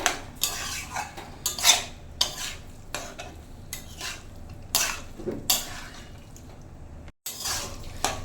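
Cucumber and shrimp curry stirred in a pan: a spoon scrapes and clinks against the metal in repeated strokes, with a faint sizzle of spices underneath, close and fairly loud.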